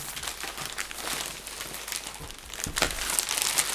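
Plastic packaging is torn and crumpled off a box that holds an Accucraft Cranmore Peckett model locomotive. The crinkling is close, loud and continuous, with no talking.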